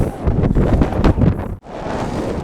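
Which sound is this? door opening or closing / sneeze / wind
wind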